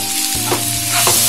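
Small chopped onions sautéing in a hot pan, a loud, continuous sizzle with stirring scrapes, close to the microphone and with no talking.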